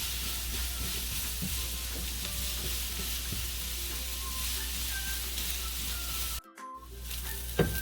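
Burger steak sizzles and fries in a pan, a steady bright crackling hiss with occasional stirring scrapes, close and loud, briefly cut near the end before resuming.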